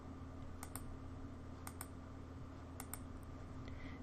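Computer mouse clicking while a design is colored in, faint and close, with a few quick paired clicks spaced about a second apart over a quiet background hum.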